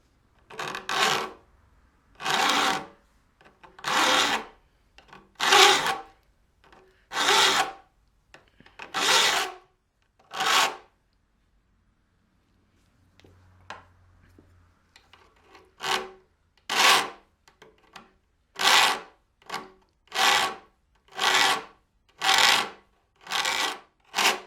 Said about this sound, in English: a rat tail file to smoothen the curve